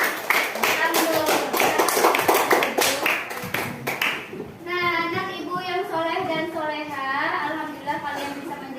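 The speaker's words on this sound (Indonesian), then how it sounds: "Tepuk tangan dulu untuk kelompok" Classroom children clap together for a group of classmates, a dense burst of handclaps over the first half, then children's voices chattering and calling out once the clapping fades.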